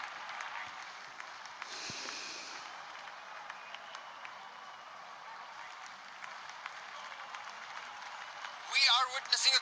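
At a T20 cricket match between Australia and Sri Lanka, a distant stadium crowd applauds and cheers in a steady wash, swelling near the end, while a commentator talks over it.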